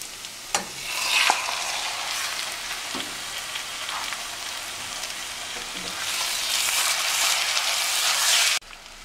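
Liver hits a hot pan with onion, garlic and pepper and fries with a steady loud sizzle, a few spatula clinks early on, the hiss swelling before cutting off abruptly near the end.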